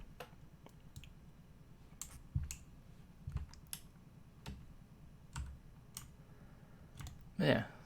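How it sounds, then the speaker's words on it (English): Computer keyboard keys click in irregular taps and short bursts during game grinding, close and fairly quiet, with a louder cluster near the end. "Turn down my gain a bit just so you don't have to listen too much to my keyboard."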